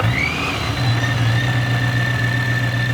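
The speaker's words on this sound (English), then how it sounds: "Here's a supercharged BMW." Supercharged BMW engine tuned to about 650 horsepower, idling steadily up close with a low droning hum and a thin whine from the supercharger running throughout, no talk.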